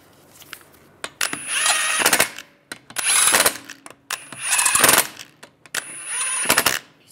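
Lug bolts on a Volkswagen Beetle wheel being run down with a power tool in four separate bursts of whirring and ratcheting, each about a second long, separated by brief pauses, close and fairly loud.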